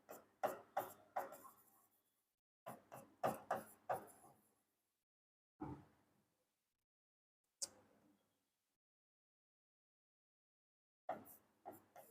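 Pen strokes on paper while writing out an accounting equation come as short scratchy clusters separated by long silences, close and quiet, with no speech.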